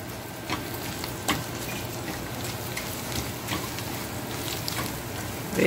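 Tempering spices and garlic crackle softly in oil for ridge gourd peel chutney, a faint steady sizzle dotted with small pops and clicks.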